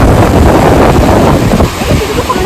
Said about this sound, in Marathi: लाटा धडकतात बघ कशा.